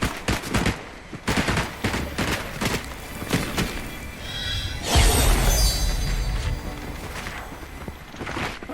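Gunfire in the video game Fortnite: rapid clusters of sharp shots in uneven bursts, with a denser, louder volley midway, heard without talk.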